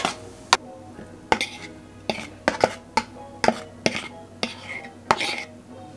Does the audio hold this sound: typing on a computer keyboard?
no